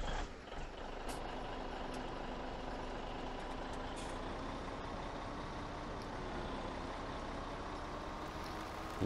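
A truck in Farming Simulator 17 on the Goldcrest Valley map, its engine holding a steady drone throughout with reversing beeps and a hiss of air brakes, heard alone without any talk.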